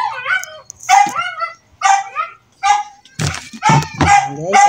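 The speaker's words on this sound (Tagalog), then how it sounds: "yung aking aso" A pet dog barks and yips in a quick series of close, loud, high-pitched barks with short pauses between them, some sounding whiny.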